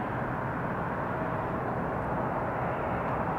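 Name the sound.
Boeing 747 taking off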